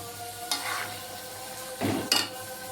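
Bean and lentil dal with fish simmers in a wok as coriander leaves go in, producing a soft ongoing sizzle with two short bursts of stirring and utensil scraping.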